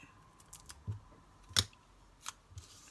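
Scissors snip through paper card in a few quick, separate cuts, faint and close, with quiet pauses between them and no voices.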